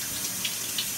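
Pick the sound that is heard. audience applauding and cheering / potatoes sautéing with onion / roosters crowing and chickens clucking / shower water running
shower water running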